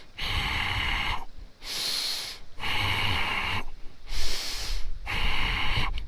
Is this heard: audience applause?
no